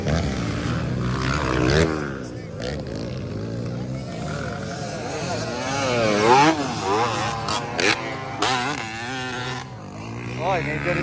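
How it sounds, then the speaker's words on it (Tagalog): Enduro motorcycles race in a local heat at Kinoguitan, Misamis Oriental, engines revving and wavering up and down as bikes pass nearby, with an excited commentator talking over the buzzing throughout. "Oy, medyo diferensyado ang motor ni Almerino."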